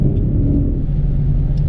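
A 2020 Mustang GT with a Coyote engine spinning its tires on launch at a drag strip, heard as a loud, steady low engine rumble up close with no clear tire squeal above it.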